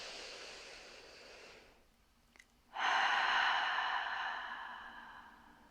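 Two breathy exhales during a chair yoga practice: a longer soft one, then after a brief pause a louder, fuller sighing "ha" breath that fades out slowly. No talking.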